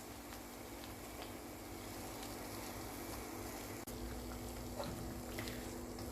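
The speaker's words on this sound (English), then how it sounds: "So we keep frying them on low flame like this and keep pressing them" Oil bubbles and sizzles steadily as puris deep-fry on a low flame in a pan, a continuous crackling hiss with one brief clunk midway.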